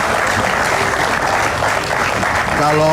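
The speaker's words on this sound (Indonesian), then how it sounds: "Tepuk tangan dulu dong." Studio audience applause at an Indonesian TV talk show fills the room as a dense, steady, loud wash of clapping, with a voice and music rising underneath near the end.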